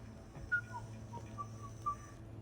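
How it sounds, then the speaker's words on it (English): Soft, faint whistling in Mass Effect 3 during a quiet party on the Citadel: a few short, separate tuneful notes over a low steady ambient hum. "Are you whistling?"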